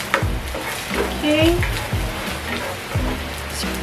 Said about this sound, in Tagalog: so mix lang natin hanggang sa mag-change lang ng color yung garlic